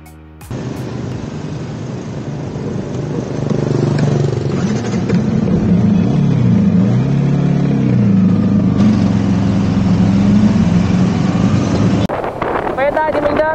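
Motorbike engine droning steadily while riding, with wind buffeting the microphone; the engine pitch rises and falls slightly.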